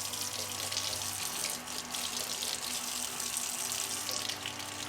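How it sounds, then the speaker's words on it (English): Hot water runs steadily from a kitchen tap into a sink while making pizza dough, a continuous close splashing rush with no talk over it. "I like to run hot water."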